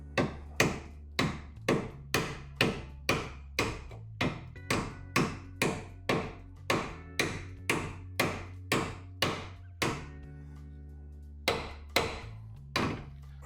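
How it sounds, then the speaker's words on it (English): Steady series of sharp metallic taps from an old bolt knocking a rear strut on a Ford Escort, close and evenly spaced, with a short pause near the end before a few more strikes. "I'm gonna use one of these old bolts and just kind of tap it."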